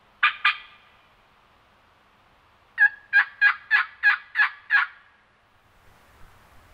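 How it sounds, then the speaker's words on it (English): A wild turkey gobbles in the Tennessee woods: two quick gobble notes, a pause, then a loud run of seven sharp rhythmic gobbles, heard alone with no talk. "Bird just gobbled."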